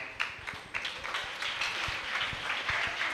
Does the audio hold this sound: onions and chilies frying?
no